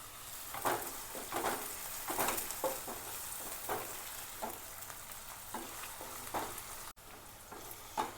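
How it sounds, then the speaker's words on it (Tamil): Sliced onions and curry leaves sauté in oil for a broad bean curry, a soft steady sizzle broken by regular scraping strokes of a spoon stirring the pan, with no talking over it. "அதுக்கப்புறம் வெங்காயம் போட்டு வதக்கிடுங்க."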